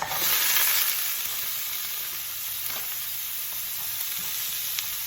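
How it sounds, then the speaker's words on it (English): Steady frying sizzle from a skillet, a continuous bright hiss with small crackles, close and fairly loud, with no talking. "I just used one 10-ounce bag, and it's sizzling."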